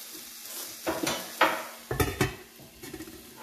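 Onions, leeks and garlic caramelized in a frying pan hiss softly while a utensil scrapes and clinks against the pan in several quick, close strokes, with no talking.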